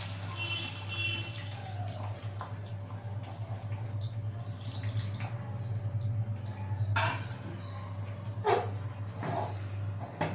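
Water rinsed from spices is poured into a cooking pan of chicken chaap, a Bengali chicken dish, giving a steady splashing and running-water sound with brief clinks of cookware.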